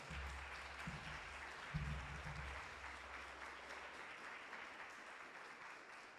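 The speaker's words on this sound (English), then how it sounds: "So put your hands together and give Keith a huge round of applause." An audience at a forum on the racial wealth gap claps for Keith, a dense steady patter of many hands that fades as it goes, heard from a distance with low rumbling beneath.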